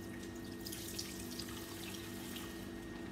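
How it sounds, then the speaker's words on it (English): Water poured through a sieve into a bowl while making royal icing, a steady, soft trickling splash that runs continuously over a faint background hum. "So place this on the bowl and pass the water through."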